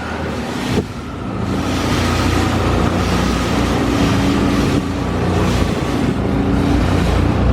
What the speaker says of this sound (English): Somehow we ended up on this boat.